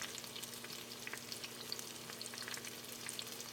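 Eggs fry in a pan with a dense, even sizzle and spitting crackle, while a spatula scrapes and pushes them along, close and unbroken with no talk.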